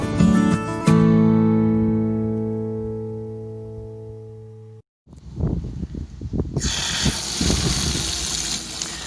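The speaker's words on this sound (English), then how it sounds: "I took my containers on the trolley to fill up at the tap of the public loos on the edge of town" Water from a public toilet tap on the edge of town gushes steadily into portable containers, loud and close, coming in after a few seconds of a sustained humming tone and brief silence.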